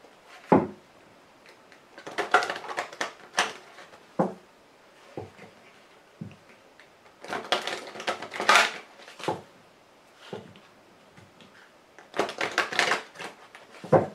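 A Lenormand fortune-telling card deck being shuffled and cut by hand, giving bursts of papery riffling and soft slaps with short pauses between, close and fairly clear, with no talking.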